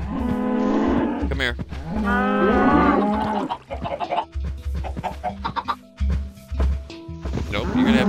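Several low moos from cows in the Minecraft video game, repeated in a farm pen along with clucking chickens, while someone speaks briefly.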